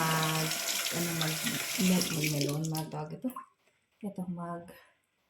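Tap water runs into a sink while an orange is washed under it, a close splashing stream broken by short pauses, with a voice talking over it.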